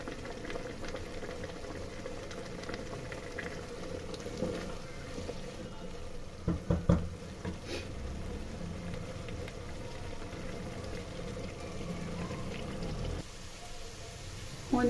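A potato, spinach and fenugreek curry simmers in a pot, giving a faint, steady bubbling hiss with a few brief clinks and clatters midway and a sharper sound at the very end.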